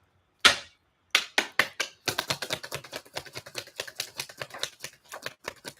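Tarot cards being drawn and handled give a crisp opening flick, then a rapid run of sharp, close clicking snaps that slows into irregular taps, with no one talking.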